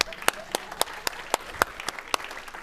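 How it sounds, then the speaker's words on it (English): Sparse, distinct claps from a small group at a spiritual lecture, sounding as separate sharp hits at a fairly steady rhythm, moderately close and fairly quiet. "Let's just all applaud Dr. Holmes right now."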